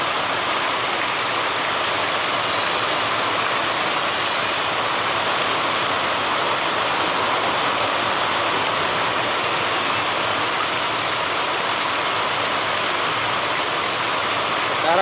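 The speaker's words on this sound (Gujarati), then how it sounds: "ધોધમાર ચાલુ છે અને એક ઘડીકમાં ઘડીક વારમાં પાણી પણ હાલતા થઈ ગયા છે" Heavy rain pours down on farmland in Lavarda in a dense, steady roar, constant and loud throughout with no breaks.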